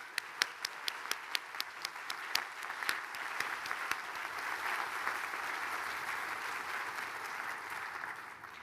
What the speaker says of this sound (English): May we have a round of applause for the...